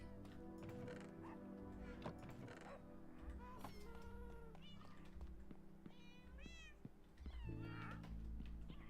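A cat in Minecraft meows repeatedly in short whiny calls over busy game sounds and music, with some calls loud and close and others softer.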